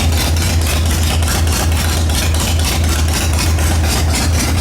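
A Harley-Davidson Sportster 883 motorcycle engine running close by, a loud, steady deep rumble with a lopey pulsing beat and no talking over it.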